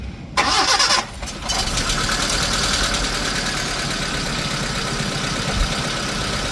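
A 2012 Hyundai Accent running on CNG/petrol, with an engine noise problem, cranks and catches, then settles into a steady, loud idle with a busy mechanical rattle and no talking.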